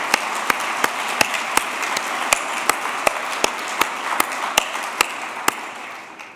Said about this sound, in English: So please join me in a big round of applause for all those folks.